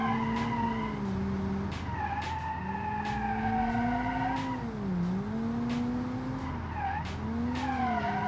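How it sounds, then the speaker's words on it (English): Tyres squeal and skid as a hatchback's wheels spin under gentle throttle in BeamNG, a steady, loud engine tone rising and falling with sharp screech bursts throughout, no talking. "I'm pressing the throttle gently and wheel spin all around."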